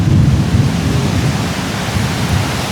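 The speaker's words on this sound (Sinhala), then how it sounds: "මේ වැස්සත් එක්ක තව වැස්ස ලස්සනයි" Heavy rain pours down outdoors in a steady, loud wash, with deep rumbling thunder rolling underneath throughout.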